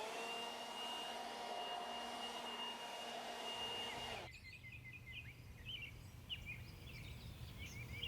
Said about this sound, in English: to remove the worm cast off the lawn is actually just to take a blower and to blow them off